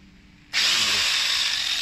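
A chainsaw grinder is test run, starting abruptly after a quiet moment into a loud, steady high-pitched whirring buzz that continues to the end.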